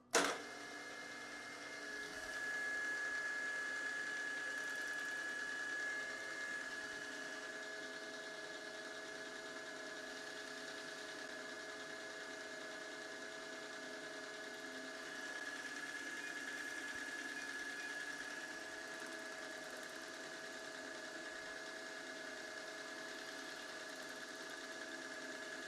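A milling machine spindle fitted with an edge finder spins at 1000 RPM, a steady, fairly quiet mechanical whir with a sustained tonal hum that runs on unbroken after a brief start.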